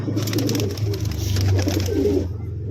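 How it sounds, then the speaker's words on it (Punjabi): Pigeons coo continuously in low, throaty, overlapping calls, steady and close by, with faint background noise. "ਚਲੋ ਸਾਰੇ ਕਬੂਤਰ ਆ ਗਏ ਆਪਣੇ ਬਾਹਰ"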